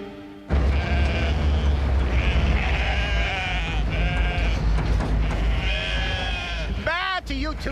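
Several sheep bleat in a farmyard, loud, wavering calls in repeated bursts across the clip, with a voice briefly joining near the end.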